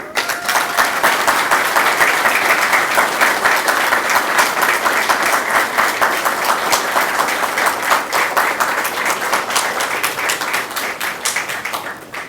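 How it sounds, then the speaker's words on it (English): An audience at a medical school white coat ceremony gives the faculty a long, loud round of applause, many hands clapping in a dense, steady roar that carries on for over ten seconds before easing slightly. "ask you for a round of applause for the faculty that worked very hard to get us today here"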